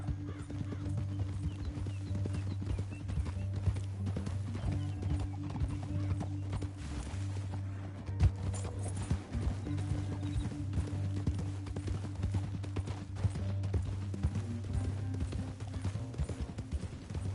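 Horses gallop with steady, rapid clip-clopping hooves in a PS4 video game, the hoofbeats running continuously over a low, steady in-game drone.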